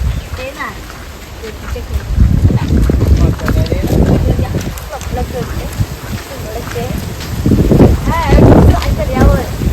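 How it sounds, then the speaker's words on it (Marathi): Gusty wind buffets the microphone with low rumbling bursts and shakes tree leaves on a hot afternoon, while a voice talks intermittently over it outdoors. "मस्त वारा असा सुटलेला आहे बघा झाडांची पानं"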